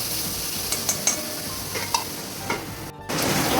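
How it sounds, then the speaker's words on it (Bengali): Potatoes fry in hot oil with cumin, the close sizzle broken by scraping and tapping as a spatula stirs and a lid goes on, a brief hush before the sizzle returns louder. "ঢাকা দিয়ে ভাজবো আলুটা।"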